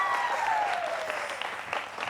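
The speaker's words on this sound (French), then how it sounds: "Et on applaudit pour ma localité" A studio audience at a French-language entertainment broadcast gives a short burst of applause, steady clapping over a faint sliding tone.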